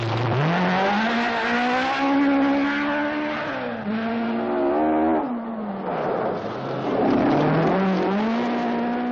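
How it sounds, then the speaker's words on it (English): An old Mark 1 Ford Escort rally car racing on the 1976 Scottish Rally, its engine revving hard with rising and falling pitch through gear changes, loud and close with no talk. "The other flying Finn, Pentti Arikala, is really flying in his elderly Mark 1 Escort"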